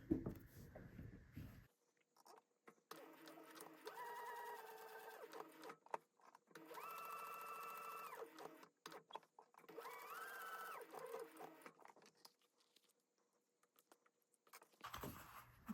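Leather raw-edge wallet being stitched around three sides on a sewing machine, with three bursts of steady whirring motor and needle chatter at close range, separated by pauses and handling noise.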